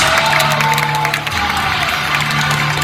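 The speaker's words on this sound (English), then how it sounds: "Give him a round of applause." Audience at a Fear Factor Live stunt show at Universal Studios claps and cheers steadily and loudly for a contestant, with a few voices calling out over the dense crowd noise.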